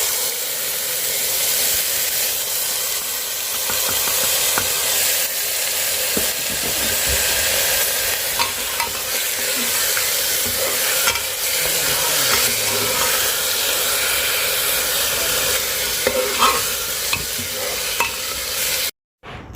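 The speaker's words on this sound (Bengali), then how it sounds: "চলো পেঁয়াজটা ভাজা হয়ে গেছে" Onions fry and sizzle in a pan for khichuri while a spoon stirs them, a steady close hiss with scraping strokes throughout and no talking, ending abruptly.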